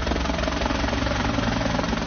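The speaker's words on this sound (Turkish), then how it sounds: "Helikopterler sahil şeridini taradı." A helicopter searching a Black Sea coastline for two young people swept away by the current gives a loud, steady rotor drone with a low engine rumble throughout, and no talking.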